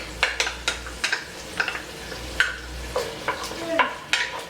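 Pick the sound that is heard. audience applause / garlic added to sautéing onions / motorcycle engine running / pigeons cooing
garlic added to sautéing onions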